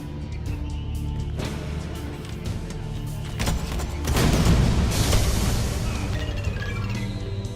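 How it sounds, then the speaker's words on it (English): Homing missile firing and exploding in the shooter game Rise of the Triad, heard as a whoosh of launch rising into a loud, rumbling boom over a continuous backdrop of game sound, with no talk. "This is a homing missile."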